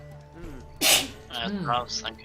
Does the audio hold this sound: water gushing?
no